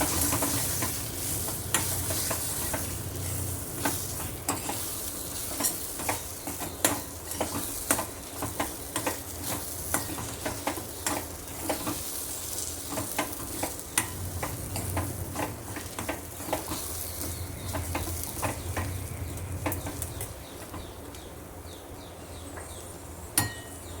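Mango semolina halwa with ghee being stirred in a pan, a steady soft sizzle under repeated scraping clicks and taps of the spoon against the metal, continuous and close without speech.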